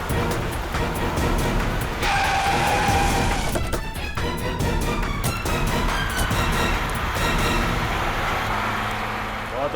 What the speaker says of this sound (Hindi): ये नेहा तो गाड़ी भगाने लगी।